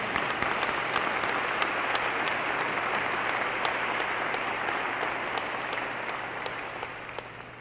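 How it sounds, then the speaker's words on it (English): An audience at an inaugural address applauds Dr. Carter and her committee, a dense, steady wash of clapping that holds loud for most of the stretch before gradually fading toward the end. "join me in applauding the work of Dr. Carter and her committee for this tremendous effort"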